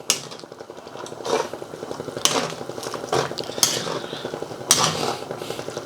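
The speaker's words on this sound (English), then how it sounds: "And finally, our spring onions. Just stir them through." Spring onions stirred through chicken noodle soup with prawns in a pot, a spoon scraping and clinking against the metal in several distinct strokes over a low simmering bubble, close and fairly quiet.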